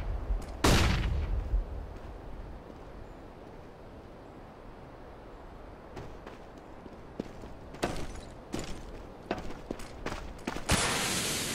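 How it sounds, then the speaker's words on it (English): A flashbang grenade bursts sharply in Counter-Strike: Global Offensive, a loud blast early on followed by scattered clicks, impacts and gunfire-like cracks on an Xbox One X map, with a bright ringing burst near the end. "Flashbang."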